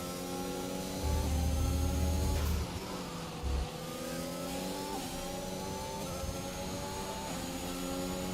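A Formula 1 car engine in an F1 racing video game set in Austria howls at high revs, with steady gear-by-gear pitch sweeps and brief low thuds. The sound is continuous and loud, with no talking.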